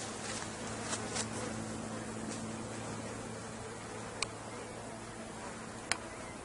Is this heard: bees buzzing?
yes